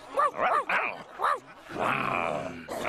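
Cartoon puppy giving a few short yips and barks in quick succession, followed by a grumbling, growling vocal texture, all close and clear.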